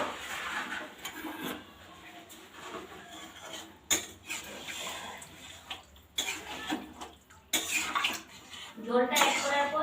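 Water is poured into a pot of well-sautéed masala for soya chaap curry, a rushing, splashing pour in bursts mixed with clanks of metal cookware and utensils.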